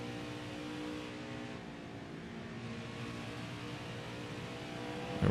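A race car engine in the NASCAR Heat 5 video game, modded Xfinity Series car, droning steadily at high revs with a slight dip in pitch as the driver works the gas and brake, closing with a short louder burst.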